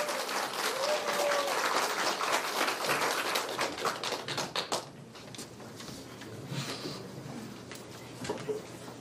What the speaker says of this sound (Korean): 우리 장원국 박사님 나오실 때 박수 한번 치시기 바랍니다.